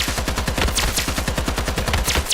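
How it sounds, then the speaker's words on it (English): Rapid automatic gunfire from a gun in Islands of Nyne, a steady stream of loud, evenly spaced shots in quick rhythm with no pauses. "What are some other guns we can listen to the sounds of?"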